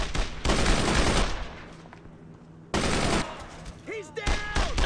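Bursts of rapid gunfire from a World War II squad shooter, Brothers in Arms: Road to Hill 30, come in two loud sustained volleys separated by a quieter lull, with a short voice-like chirp near the end.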